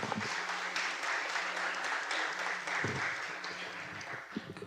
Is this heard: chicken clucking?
no